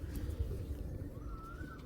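A racing pigeon of a Belgian or Dutch club line coos softly in low, throaty murmurs close by, with steady background hum and no talk.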